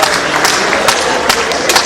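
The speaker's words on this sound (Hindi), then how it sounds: "तालियां हम सभी की लगातार बजती रहे।" A large crowd claps steadily in loud, continuous applause with a few sharper bursts standing out.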